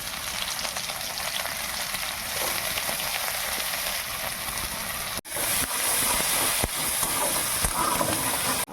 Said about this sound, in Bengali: এবার আমি আদা আর রসুনটা দিয়ে দেবো।